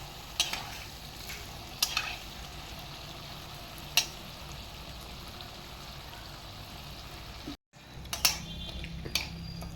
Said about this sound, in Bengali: লাল লাল করে আমি জিলাপিটা ভেজে নিয়েছি